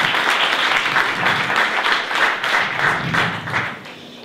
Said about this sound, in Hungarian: Úgyhogy egy nagy tapsot már előre mindenkinek.